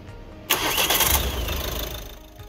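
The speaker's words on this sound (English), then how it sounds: "Start the engine and ensure the LEDs illuminate in accordance with the supplied instructions." A Ford S-Max 2.0 TDCi diesel engine cranks and catches with a sharp burst, then settles into a steady close idle.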